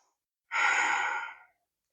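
A single long breath, likely an exhale, during a yoga twists and side stretches routine, lasting about a second, close and fairly loud in an otherwise quiet room.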